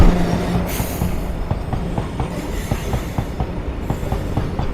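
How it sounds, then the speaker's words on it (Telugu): A goods train rolls past behind the Majhighariani Devi temple in Rayagada, a loud continuous rumble with rhythmic clickety-clack of wheels over rail joints and brief squeals, close by, no talk. "వెనకాలే ట్రైన్ వస్తుంది చూడండి, గూడ్స్ ట్రైను"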